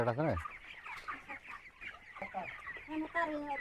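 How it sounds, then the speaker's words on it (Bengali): Chickens cluck and squawk close by on a poultry farm raising broiler chicks, a busy overlapping chorus of short calls with some muffled human voices mixed in underneath. "পাঁচটা মুরগি"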